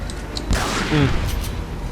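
Resident Evil 4 combat: a loud booming grenade explosion swells in the middle of the clip amid sharp gunfire bursts, close and dense, with a faint voice underneath.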